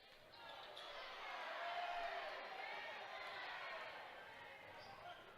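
High school boys' basketball game crowd reacting with a swelling groan and murmur of displeasure in a gym, faint and distant, with a commentator talking over it.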